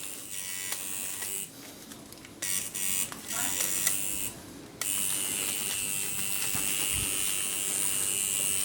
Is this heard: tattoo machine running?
yes